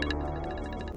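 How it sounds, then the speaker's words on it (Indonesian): A phone ringtone plays for an incoming call indoors at home, a steady repeating tonal pattern at moderate level, heard alone with no talk over it. "aku ada telepon pasti soal kerjaan"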